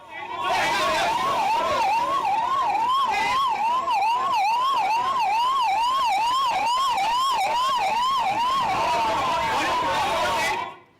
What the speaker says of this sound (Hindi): मौके पर एम्बुलेंस एक के बाद एक पहुंची है